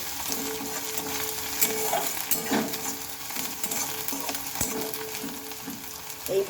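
Onions frying in a pan until reddish-brown for a carrot dhoka dish, a steady broadband sizzle with occasional soft stirring scrapes and clinks, close and fairly quiet, with no talking.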